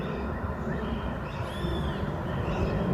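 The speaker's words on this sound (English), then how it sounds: "There are birds" Birds call outdoors, a few thin rising and falling chirps partly buried in a dense, loud wash of ambient noise from wind in trees, distant traffic and people playing ball.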